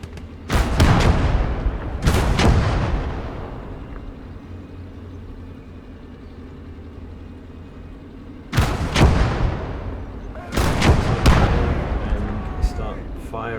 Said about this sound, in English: Firing at the artillery piece